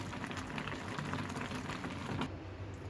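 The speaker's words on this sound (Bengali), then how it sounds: "এখন অনেকটা সিদ্ধ হয়ে এসেছে নুডলসটা।" Egg noodles boiling in a pot of water, a steady close bubbling and rolling simmer that continues evenly throughout with no voices.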